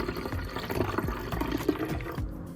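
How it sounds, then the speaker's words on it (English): Water and MAXRemove concentrate poured into a container filled to a 4:1 mark, a steady splashing gurgle of liquid running for a couple of seconds before tapering off. "Pour the concentrate."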